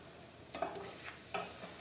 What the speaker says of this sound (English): we're going to fry these in the fat too